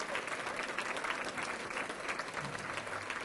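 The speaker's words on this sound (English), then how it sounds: "Give yourselves a big round of applause for being here." Guests at a high school athletic hall of fame dinner break into a dense, steady round of applause that fills the room evenly from start to finish.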